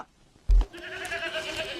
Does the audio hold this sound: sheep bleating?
yes